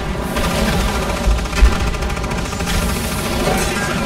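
Heavy automatic gunfire rattles continuously in the video game Evolve Stage 2, a loud, dense fusillade with a couple of deeper booms partway through and no voices.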